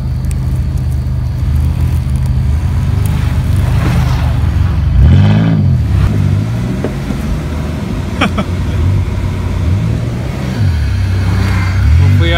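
A Dodge Caravan minivan drives along, heard from inside as a steady low engine drone with a few rising rev swells as it accelerates.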